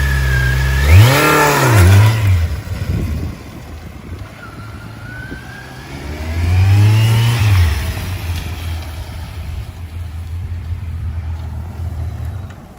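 A motorcycle pulls away after braking on the front wheel: two strong engine revving surges rise and fall, then a steady idle hum, all close and without talk.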